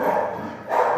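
Dogs in a home backyard bark and yelp at a cat walking past them, two close, sustained bursts of sound in quick succession.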